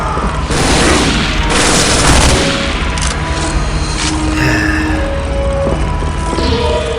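A loud explosion from the shooter game Soldier of Fortune 2 roars as a broad, sustained rumble with debris-like crackle, accompanied by several sharp, short bangs and faint game tones underneath, with no talking.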